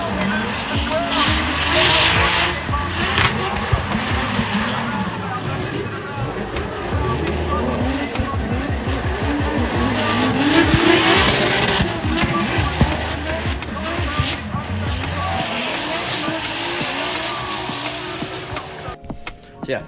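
Tandem drift cars at an LZ World Tour event run bumper to bumper, engines roaring hard and tires squealing in a dense, continuous wall of noise. Commentary carries over the top.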